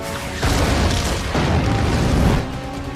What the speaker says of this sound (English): And we get some like more Michael Bay-ish kind of explosions here